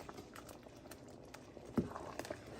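Soup with sour cream stirred in simmers gently in a pot, faint bubbling and soft irregular pops, with one louder blip near the end and no talking.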